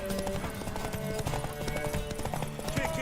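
Steady, rapid hoof clip-clops from a trotting horse in The Witcher 3: Wild Hunt, close and continuous, over a busy background of music and game sounds.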